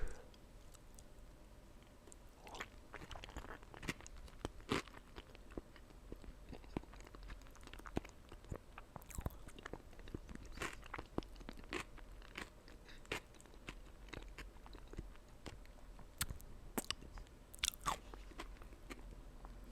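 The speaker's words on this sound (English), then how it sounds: "I really am not a huge fan of celery, but man, does that give it a good crunch with the potato salad." Close, crisp crunching and biting from someone eating potato salad with crunchy celery, repeated chews and sharp crackles spread irregularly across the stretch, quiet and intimate with no talking.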